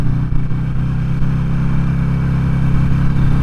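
A Harley-Davidson Sportster 883 being ridden, its engine a loud, steady low rumble with a lumpy, pulsing beat close by, holding an even pace with slight surges and no talk.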